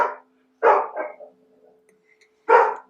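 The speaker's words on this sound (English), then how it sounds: "Bark, bark, bark, bark." A dog barks nearby in three sharp, fairly loud bursts, the first two close together and the third after a pause, with quiet between them.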